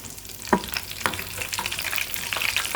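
Spices sizzle and crackle steadily in hot oil for a dal tempering, with a few sharper pops, no voices, close and moderately loud.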